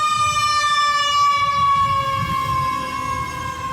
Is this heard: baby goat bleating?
no